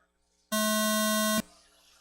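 A loud electronic start buzzer for a 21.5 touring car A3 main at a carpet on-road RC national championship, one steady tone lasting just under a second before cutting off to quiet room noise.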